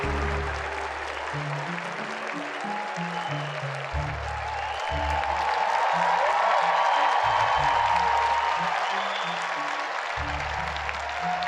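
Fans in a crowd applaud, a steady wash of clapping that swells slightly partway through, with scattered voices mixed in.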